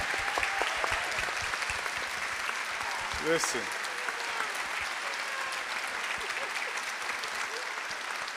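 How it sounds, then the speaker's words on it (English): Audience applause for a panel discussion on Denmark Vesey, a steady wash of clapping throughout with a brief spoken remark partway through. "Please, I think they deserve a round of applause."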